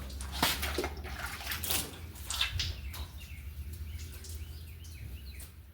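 Water splashes and sprays across a sanded car quarter panel being wet down during bodywork on a Ford, with bursts of spraying over a steady low hum and faint bird chirps in the background.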